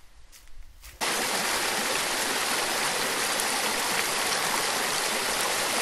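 Beaver Creek in the Catskills rushes loudly and steadily, a dense, continuous wash of flowing creek water that starts abruptly after about a second of quieter sound and carries on unbroken.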